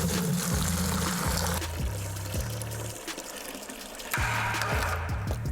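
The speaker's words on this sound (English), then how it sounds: "we're going to pour water until it breaks and then measure the winner." Water pours steadily onto a clamped 16-pound Yo-Zuri fluorocarbon fishing line in a break-strength test, a continuous close splashing stream under background music.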